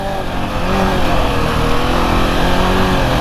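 A KTM 690 Enduro R single-cylinder motorcycle accelerates hard on a country lane in Lincolnshire, its engine rising into a loud sustained rev as the rear wheel spins, heard close and alone.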